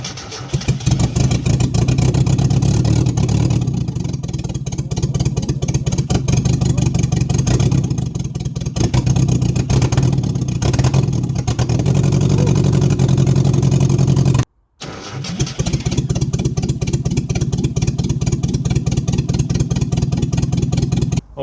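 Loud, raw classic Mini engine idling and revving close up with no exhaust fitted, harsh and unmuffled, with a brief cut-out before it runs on.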